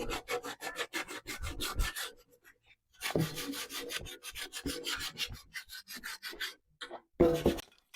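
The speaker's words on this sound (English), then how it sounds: "So I'm sanding it down." Hand sanding on a wooden outdoor decor piece gives rhythmic back-and-forth rasping strokes, close and fairly loud, in two long runs separated by brief pauses and ending with a short final stroke.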